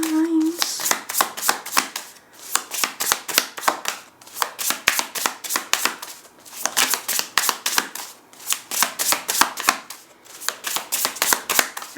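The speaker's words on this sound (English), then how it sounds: "Let's shuffle the oracle cards" Oracle cards are shuffled by hand in repeated riffling bursts of rapid crisp flicks, separated by short pauses, close and clear.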